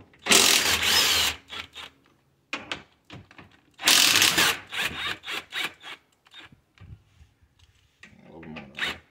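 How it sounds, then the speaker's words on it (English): A 3/8 drive ratchet with a 15 mm socket clicks and rasps in short bursts while loosening crash bar bolts on a 2021 Ford Bronco, with long, loud ratcheting runs separated by brief pauses. "So I got a 3/8 drive with a 15 millimeter socket, 15 millimeter wrench."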